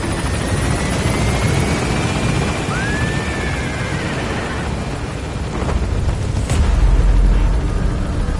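A helicopter gains altitude in Metal Gear Solid V, its rotor and engine making a loud, continuous throbbing roar with a rising whine sweeping through, close and steady, with a heavy low rumble swelling near the end.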